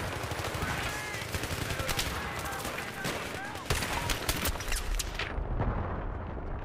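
Dense gunfire in Battlefield 3 video game, rapid overlapping shots and bursts crackling continuously, loud and close, with a player's voice speaking over the combat.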